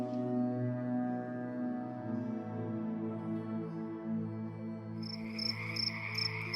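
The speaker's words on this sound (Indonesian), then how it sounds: "Hanya suara-suara jangkrik dan kodok yang bernyanyi di persawahan dekat rumah kami." Crickets and frogs calling from rice fields beside a quiet village around 3 a.m., a steady layered night chorus with sharper, brighter chirps pulsing in over the last second or so.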